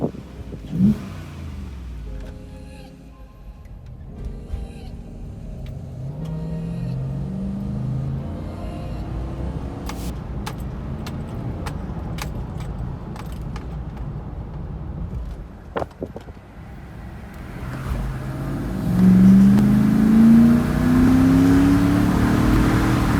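A V8 Toyota 4Runner (Lexus GX470 platform) fitted with an aFe Stage 2 5R cold air intake runs at a steady, close idle, then revs up in a rising sweep near the end, with no talking.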